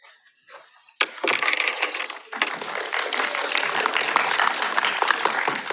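Sustained applause from an audience at a medical lecture breaks out suddenly and continues steadily, with a brief dip before swelling again, loud and dense throughout.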